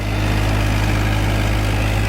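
A small Farmtrac tractor with four-wheel drive runs steadily at close range, its engine a loud continuous low drone with no talk over it.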